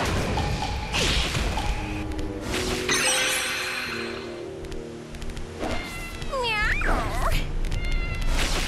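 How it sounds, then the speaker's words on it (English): A cat in the video game Guilty Gear 2: Overture meows and caterwauls in several drawn-out, wavering cries, mixed with swooshes, thuds and a crash, all close and fairly loud. "Are you meowing at me?"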